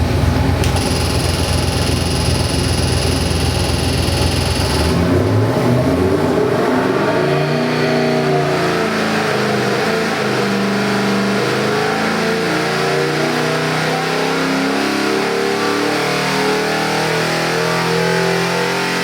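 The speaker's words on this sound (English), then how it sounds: "What a gorgeous motor." A 1970 Ford Mustang with a 302 performance crate engine, first held at a high steady rev, then dropping to a loud, lumpy, rumbling idle that continues close and unbroken, with no voices.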